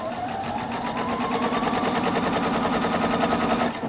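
Husqvarna Viking Opal 670 sewing machine running a fix stitch, a steady rapid mechanical whir with even stitching pulses close up, stopping near the end.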